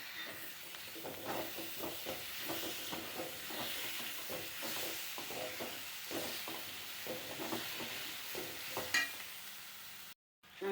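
Ripe tomato going into sizzling pepper chicken masala in a pan, a close hissing sizzle with repeated stirring scrapes in an uneven rhythm, cutting off abruptly near the end.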